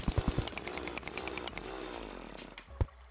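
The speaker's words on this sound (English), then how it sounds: "I am using the Orialchium drill." Orichalcum drill mining blocks in Terraria, a continuous buzzing whir with a few sharp impact thumps at the start and one near the end, loud and steady without speech.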